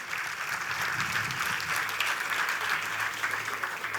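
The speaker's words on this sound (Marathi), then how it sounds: "एकदा जोरदार टाळ्यांचा गजराने आपण सगळ्या टीमचंच अभिनंदन करूया" A theatre audience gives a sustained round of loud applause, dense and steady throughout.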